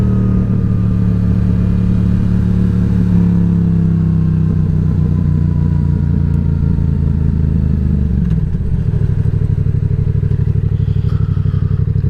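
A Yamaha MT-07 motorcycle engine drones steadily under a rider on a town road, loud and close, with revs rising and falling through gear changes and a dip near the end before it pulls again.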